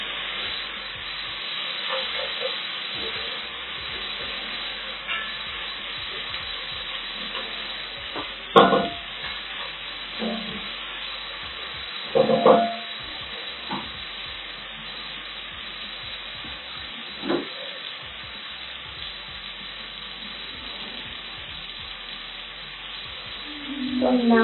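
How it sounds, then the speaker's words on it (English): Beef pilau being stirred in a pot, a soft steady hiss and sizzle with scattered scraping and knocking strokes of a spoon, a few louder clunks along the way. "Give it a stir."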